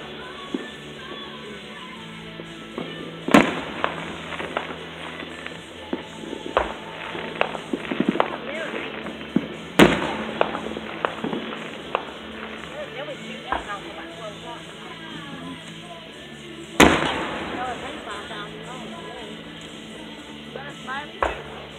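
Independence Day fireworks bursting in several directions, three sharp loud bangs spaced several seconds apart over a busy background of crackles and distant pops.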